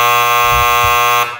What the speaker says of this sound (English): Keep that buzzer handy too.